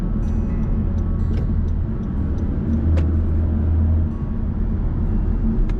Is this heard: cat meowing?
no